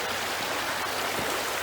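A river stream rushing near the Three Shires Head waterfall, a steady, full broadband wash of flowing water, close and unbroken for the whole moment, with no voices.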